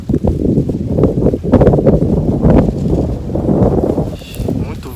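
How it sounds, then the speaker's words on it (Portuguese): Strong gusts buffet the microphone outdoors, a loud low rumbling roar that swells and dips unevenly, with someone speaking through it. "Muito vento, pessoal, muito vento."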